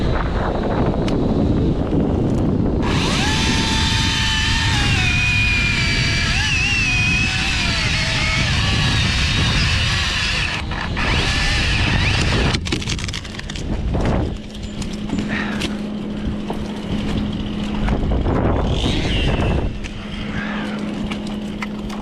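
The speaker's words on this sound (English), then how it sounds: "A bunch of wind in our favor." Strong wind gusts across an island in below-zero chill, roaring and buffeting the microphone loudly and continuously throughout, with faint voices and some outdoor activity mixed in.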